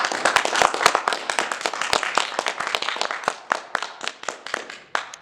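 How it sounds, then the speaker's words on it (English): A radio-drama audience bursts into applause after a speech: dense, close clapping from many hands that starts strong and thins into scattered, sharper claps toward the end. "Ladies and gentlemen, just listen to that applause."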